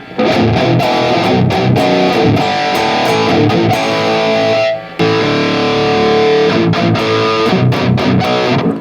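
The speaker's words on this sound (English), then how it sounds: "let's add a distortion pedal before the amp" A heavily overdriven electric guitar, played through a distortion pedal before the amp, plays thick, buzzing metal chords and riffs, loud and saturated, with a brief pause midway before continuing.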